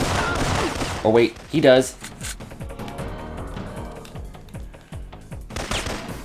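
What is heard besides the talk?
gunfire from a .45 pistol in Syphon Filter video game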